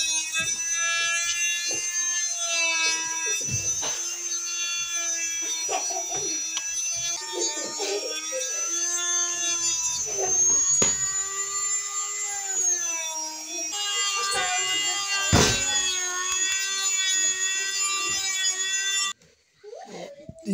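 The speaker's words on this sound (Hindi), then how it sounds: "अब इसको हम ग्राइंडर की मदद से एक्स्ट्रा साइड्स इसको उड़ा देते हैं" An electric grinder trims the extra sides off wooden propeller pieces for an ATR 42-500 wooden model, a loud, sustained high whine that shifts in pitch as it bites, with sharp scraping bursts and some talk.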